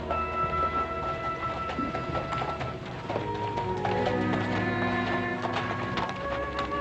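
Horse hooves clip-clop steadily on a frontier ranch, a faint rhythmic tapping mixed into a dense bed of background music that runs throughout.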